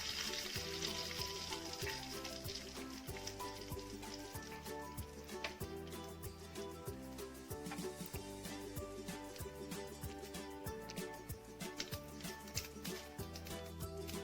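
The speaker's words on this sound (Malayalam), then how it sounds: "എണ്ണ നന്നായി ചൂടായതിന് ശേഷം മാത്രം കടുകിട്ട് പൊട്ടിക്കാൻ പാടുള്ളൂ" Mustard seeds crackle and spit in hot oil for bilimbi pickle, a dense run of sharp pops over a steady sizzle, close and fairly quiet, with a tonal musical bed underneath.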